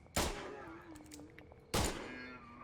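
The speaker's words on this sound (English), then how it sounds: "the revolver will only shoot and then you have to wait for a second before you can shoot again" Two sharp revolver gunshots in the video game Schedule 1, loud and close, about a second and a half apart, each with a short decaying tail over quiet game background tones.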